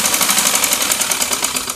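A sewing machine runs steadily, stitching the border of a salwar, its rapid needle chatter continuous and close with no talking.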